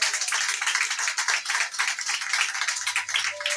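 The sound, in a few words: congregation clapping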